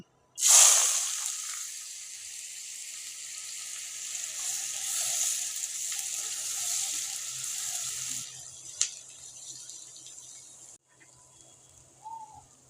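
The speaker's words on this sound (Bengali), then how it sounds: "এখন একই তালে পেঁয়াজ কুচি দিয়ে দিব" Chopped onions dropped into hot oil: a sudden loud hiss at the start that settles into a steady frying sizzle, fading and thinning toward the end with a small clink.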